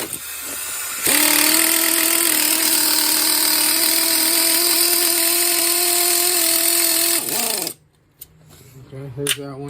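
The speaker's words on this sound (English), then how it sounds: "My air ratchet." A pneumatic air ratchet whirs loud and steady for several seconds on a 2008 Chevrolet Malibu engine being readied for removal, then winds down and stops, leaving a few faint clicks in the garage.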